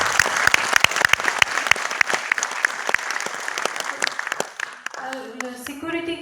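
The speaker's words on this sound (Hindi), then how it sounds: "पूरा मेरे प्यारी सी टीम के लिए एक जोरदार ताली।" An audience at a Hindi networking business event gives the team a loud round of sharp, close claps that thin out, with speech and music coming in near the end.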